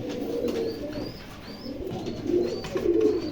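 A pair of large Indian Chila pigeons coo softly in repeated low, throaty phrases, with faint higher bird chirps scattered over a light background hum.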